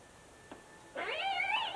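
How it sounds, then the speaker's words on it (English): A cat meows once loudly and clearly after a brief faint sound, close up in a quiet shut-in space. "Cat must have been shut up in there for a while."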